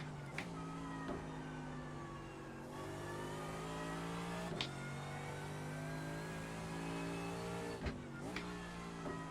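A race car engine drones steadily in the iRacing sim, holding a faint high-revving tone with brief shifts and rev changes over several seconds.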